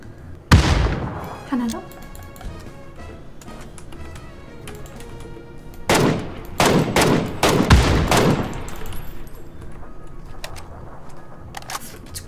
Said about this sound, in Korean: 나의 수류탄을 받아봐.